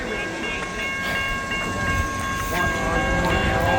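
A northbound B&O freight train rumbles past a Wyoming grade crossing with the gates down, producing a loud continuous roar with steady horn-like tones held above it throughout.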